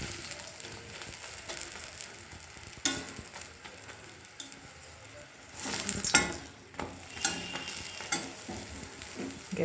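Paratha cooking in a pan over low gas: a steady crackling sizzle with scattered ticks and scraping, rising a little louder toward the end.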